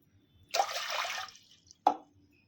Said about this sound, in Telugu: ఫస్ట్ కొంచెం వాటర్ అనేది యాడ్ చేసుకున్నాను